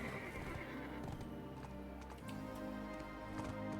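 A horse (a Pegasus mount) in Black Desert Online clip-clops steadily and whinnies, faint and close amid game ambience and music, with no talk.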